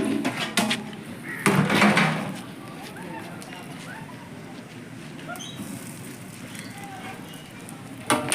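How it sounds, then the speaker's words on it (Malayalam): A wood fire burns in a hearth beneath a large biryani pot, giving a steady low roar and crackle with a few brief clattering knocks near the start and end. "ബിരിയാണി ചെമ്പ് അടുപ്പിൽ കയറാനുള്ള അഗ്നി റെഡിയായി."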